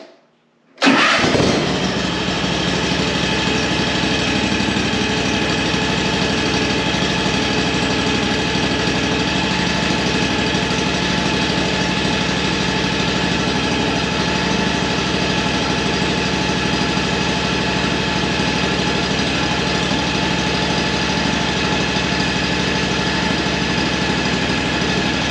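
A Kawasaki engine on a Hustler Raptor SD zero-turn mower cranks and catches after a moment of silence, then settles into a steady, loud, close idle that holds unchanged to the end with no talking.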